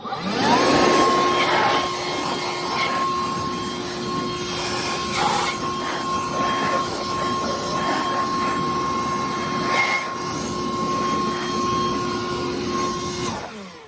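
A blower roars steadily while clearing out the deck of a Cub Cadet LT42e riding mower, a continuous close whine with a sustained tone and airy rush that shifts slightly as the nozzle moves.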